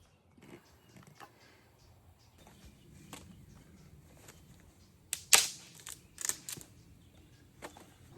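Fallen willow twig snapped by hand outdoors by a river, a sharp crack followed by a second smaller snap, close and alone amid quiet rustling.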